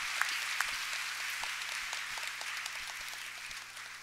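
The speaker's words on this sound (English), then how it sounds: "Give yourselves a round of applause." An audience of teachers applauds steadily, a dense wash of clapping with a few sharper individual claps, gradually tapering slightly toward the end.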